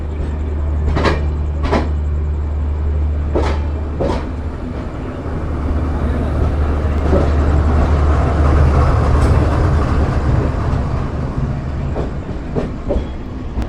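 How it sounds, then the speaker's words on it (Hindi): An Indian passenger train pulls out of Ambala Cantt station after a short halt, a steady low engine rumble and rolling rail noise with a few sharp clanks from the cars, heard from inside. "अम्बाला कैंट में 5 मिनट के हॉल्ट के बाद हमारी ट्रेन आगे के लिए निकल पड़ी है।"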